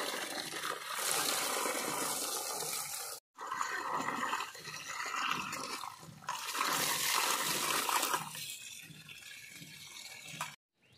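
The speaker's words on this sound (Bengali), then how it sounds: "মাংসটা ভালোভাবে ধুয়ে নিচ্ছি।" Raw chicken pieces are washed under running tap water in a kitchen, giving a continuous close gush and splash with shifting intensity as the meat is handled, briefly interrupted once near the middle.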